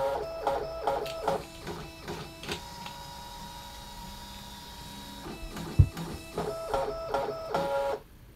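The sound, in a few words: DesignNCut cutting machine calibrating the capture mat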